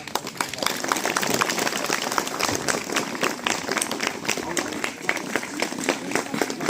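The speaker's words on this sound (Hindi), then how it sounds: "ताली हो जाती है।" An audience at a school talent-day program claps in sustained, dense applause made of many overlapping hand claps. The clapping continues at an even level throughout.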